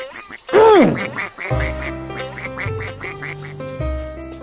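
A loud, close duck quack, followed by a run of repeated quacks mixed with low honking tones and other bird calls.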